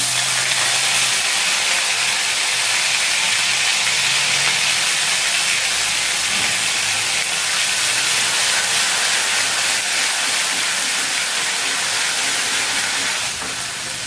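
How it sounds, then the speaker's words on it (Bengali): A ginger and green chili paste frying in a pan while spinach greens are being cooked, a loud, steady hiss of sizzling oil that holds evenly throughout, close by and with no talking. "এখন এর মধ্যে দিয়ে দেবো এই আদা আর কাঁচা লঙ্কা বাটাটা"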